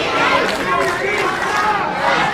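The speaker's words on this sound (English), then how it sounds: "the crowd now chanting for PB Smooth" Wrestling crowd at a Pretty Boy Smooth versus Bill Collier match, a dense continuous roar of many voices with rising and falling chant-like swells throughout, steady and loud.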